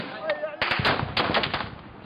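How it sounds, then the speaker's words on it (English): Gunfire during fighting in the Libyan town of Zawiya, near Tripoli: loud, close bursts of automatic rifle fire in rapid rhythmic volleys, preceded by a brief quieter moment, with a voice faintly audible. "Seconds later, the gunfire gets much closer."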